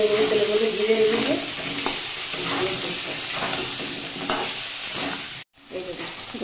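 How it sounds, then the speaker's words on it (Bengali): Drumsticks and potatoes fry in oil with turmeric, a dense, bright sizzle with soft stirring scrapes, close and steady before a brief drop, then resuming. "সজনে আলু খুব ভালো করে ভেজে নিয়েছি"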